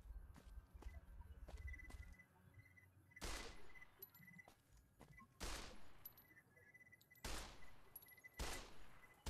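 Gunfire aimed at a scorpion in the video game Fallout New Vegas: several separate loud sharp shots spaced a second or two apart, with quieter clicks and rustling between them.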